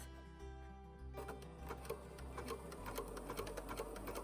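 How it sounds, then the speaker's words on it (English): A sewing machine stitches fabric for a cottage romper, a low motor hum giving way after a second to a fast, steady run of close, rhythmic needle clatter with no voices. "we're going to sew a couple stitches just to get it secured"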